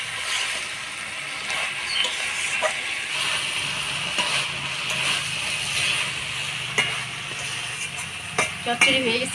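Fried fish sizzles in curry in a pan, a continuous close hiss with occasional stirring clicks and scrapes, fairly loud and steady throughout, with no voices.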